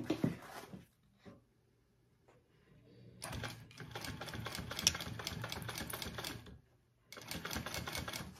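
A sewing machine stitches a gusset onto a crossbody bag in two runs, the first a long steady whirring stretch, then a pause and a shorter final burst, moderately close with no talking.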